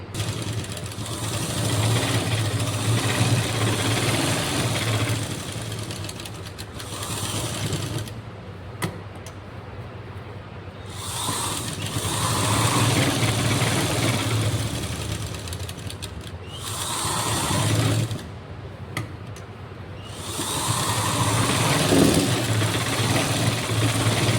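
A sewing machine stitches along the inner margin of a kurti's shirt-style collar. It runs steadily in long stretches with brief pauses between runs, a continuous mechanical whir heard up close.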